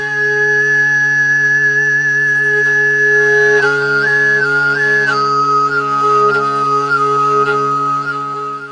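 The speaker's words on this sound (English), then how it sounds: "the Sygyt style cuts the loudness of the fundamental and amplifies the overtones, resulting in a whistling, high-pitched sound" Tuvan throat singing in the Sygyt style, a steady low drone beneath a bright whistling overtone melody that glides and steps between pitches, continuous and close for the whole stretch.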